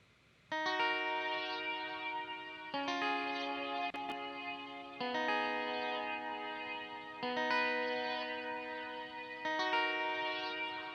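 A layered clean electric guitar melody from an Evolve Clean Guitar Clean Angels sample in an Afropop beat, with sustained chorus- and echo-washed chords changing every two seconds or so.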